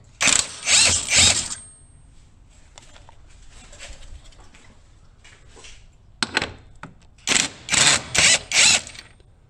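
A ratchet loosens the grille bolts on a 2011-2016 Ford F250, with two close, loud bursts of rapid clicking at the start and end and a quiet stretch in between.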